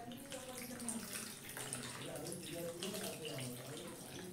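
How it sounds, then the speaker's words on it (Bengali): Water poured from a vessel onto flattened rice (chira) in a bowl to wash it, a steady close splashing and gurgling pour running throughout. "দিয়ে আবারও একবার আমি জল দিয়ে দেব"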